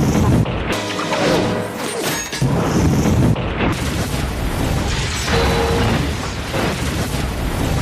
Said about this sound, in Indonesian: Seketika ledakan besar terjadi membuat kapal itu tenggelam.